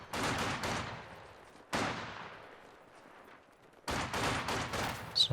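Sniper rifles crack in the World War II strategy game Company of Heroes 2, three sharp, loud shot clusters spaced a couple of seconds apart, each with a ringing tail that decays before the next.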